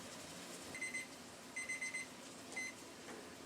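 A kitchen timer alarm beeps in short bursts of quick high tones, one, then a rapid cluster, then one more, faint against quiet kitchen background.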